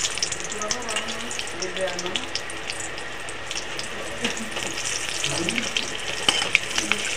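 Nigella seeds and slit green chilies fry in oil left over from frying fish. A steady, close sizzle crackles throughout, broken by faint stirring and scattered pops.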